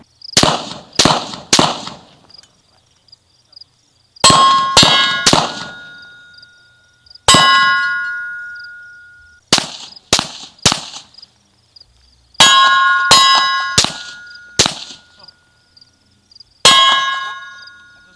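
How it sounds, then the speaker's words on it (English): Suppressed and unsuppressed AR pistols firing 55 grain ammunition, heard from about 50 yards: loud sharp shots in quick bursts of two to four, some trailing bright metallic ringing, with silent gaps between bursts. "compared both suppressed and unsuppressed AR pistols using 55 grain ammo"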